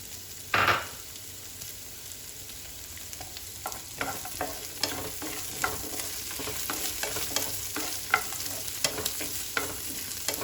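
Two large onions frying in a pan over a medium flame for paneer tikka masala, a steady sizzle under repeated scraping stir strokes, with one louder clatter as they go in at the start.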